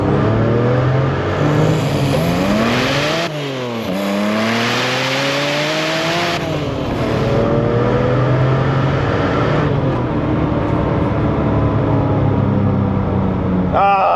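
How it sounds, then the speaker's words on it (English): A Porsche with exhaust valves open pulls hard in second gear, its engine note climbing through several loud rising sweeps with a brief dip between shifts, close and dominant throughout. "Gonna do some pulls here. This is with the valves open."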